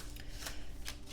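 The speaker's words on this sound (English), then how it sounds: "shuffling these cards for now." Tarot and oracle cards being shuffled by hand, a few quick, faint papery riffling bursts in close succession with no voice.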